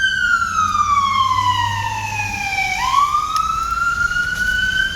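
Emergency vehicle siren wailing outdoors, a loud sweeping tone that falls and then rises again, continuous and close, with a low engine rumble beneath.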